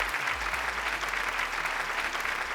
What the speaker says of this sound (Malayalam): ഒരിക്കൽ കൂടി നല്ലൊരു കയ്യടി